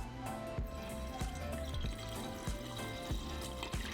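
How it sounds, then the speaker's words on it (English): Water pours into a jar over coffee bundles for cafe de la olla iced coffee, a quiet continuous splashing and trickling with small rhythmic gurgles, close and faint, without talk. "we're going to submerge them with 7 cups of water"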